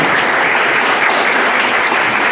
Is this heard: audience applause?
yes